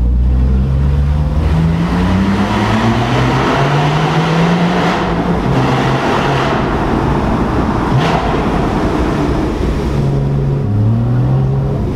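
A Porsche Boxster 981 Spyder engine accelerates hard and loud, its revs climbing repeatedly in a rising howl, broken by brief dips at gear changes, with continuous road and wind roar and no talk.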